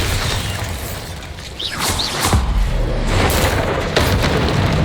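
A Bombarda blasting spell explodes in Hogwarts Legacy, a heavy booming burst with crackling debris over a loud, steady game-combat rumble, followed by further impacts.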